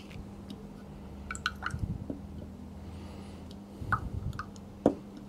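Small sample vial of rainwater shaken by hand, faint quick sloshing squishes and liquid drips in short bursts over a quiet hum, close by and with no speech.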